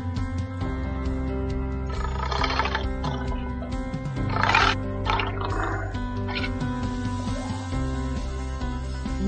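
A lion roars in several loud, rough bursts over a steady musical backing, each roar swelling briefly before fading.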